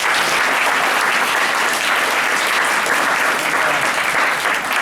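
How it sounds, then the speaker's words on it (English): An audience at a physique summit Q&A session claps loudly and continuously for the speakers, a dense, sustained burst of applause with no break. "I want to give these guys a big round of applause"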